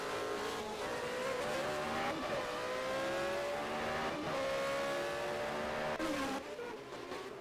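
A V8-powered Ford Coloni Formula 1 car races through corners, its high-pitched engine wailing steadily and loud throughout, with pitch dropping and climbing through braking and acceleration.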